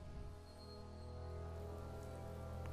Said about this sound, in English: And it's raining out.